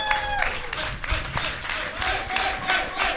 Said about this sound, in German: ich möchte bitte einen Applaus für Max, er ist im Estimate geblieben